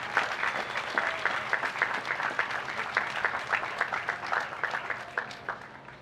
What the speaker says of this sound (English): Another round of applause for our guests